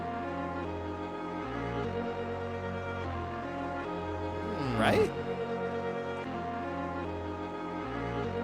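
Electronic music loop with a steady beat and sustained tones picked as a backing bed for an Evangelion freestyle, a short voice interjects midway over the music.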